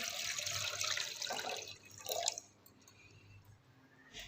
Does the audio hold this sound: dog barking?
no